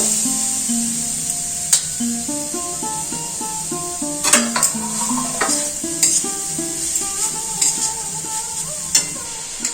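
Coconut filling for date-palm jaggery patishapta sizzles and fries in a wok, with a steady hiss broken by repeated scraping and stirring clatter from a utensil, close up and with no voices.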